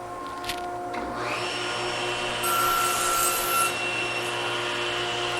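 A table saw crosscuts a wooden board to length with a miter gauge for a trestle table build: a steady broadband whir from the spinning blade rises as the cut bites in, with no talking.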